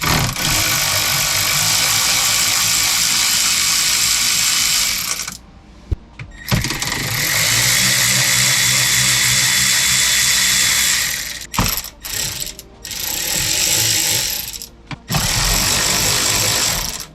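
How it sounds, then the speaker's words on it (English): Ratchet loosening 10mm bolts behind the radio of a Toyota Tundra, a loud, close, steady clicking broken by a few brief pauses, with no talking. "for these two 10mm bolts all the way in the back, I went ahead and loosened them up"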